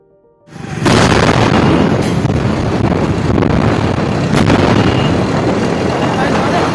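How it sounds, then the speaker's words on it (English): A powerful explosion at the Deepak Nitrite chemical factory fire in the Nandesari industrial area of Vadodara, a sudden loud boom swelling into a sustained roaring rumble heavy with wind buffeting on the microphone. "As you can see, there was a very powerful explosion as well, along with the fire."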